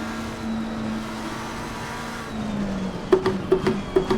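A McLaren 720S GT3 race car in Assetto Corsa Competizione holds a steady, droning engine note. Its pitch dips and climbs, then a quick run of sharp, rhythmic knocks or shift blips closes the clip.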